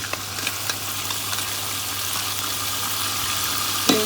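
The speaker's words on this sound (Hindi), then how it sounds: "ये देखिए प्याज अच्छी तरह फ्राई हो गई है, ज़्यादा ब्राउन नहीं करेंगे।" Onions frying in a pan for Kabuli pulao give a steady, soft sizzle with faint crackles and small stirring clicks, close up and alone without talk.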